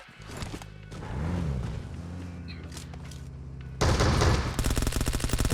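Gunfire in the game PUBG Mobile: a burst of rapid automatic shots starts partway through and keeps going loud and close, after quieter in-game movement sounds.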